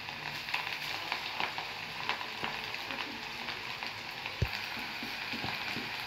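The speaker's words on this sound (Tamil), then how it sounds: "காலிஃப்ளவரை எண்ணெயில் விட்டு எடுத்து நல்லா கிறிஸ்பியாக ஃப்ரை ஆகி வந்துடுச்சு" Cauliflower pakoda deep-fries in hot oil, giving a faint, steady sizzle sprinkled with small crackles and pops and a single sharper click partway through.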